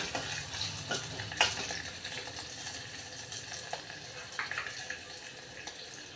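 Green and dry red chillies frying in oil in a pan, a steady close sizzle with occasional crackles and pops and faint stirring clinks.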